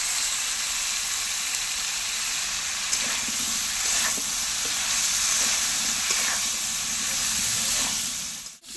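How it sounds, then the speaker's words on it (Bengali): Potatoes fry in oil with a loud, continuous crackling sizzle, broken by occasional light stirring taps, before the sound cuts off abruptly at the end. "আলু আমার ভাজা হয়ে গেছে, এবার তুলে নেব।"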